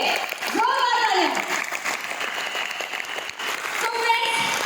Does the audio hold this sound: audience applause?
yes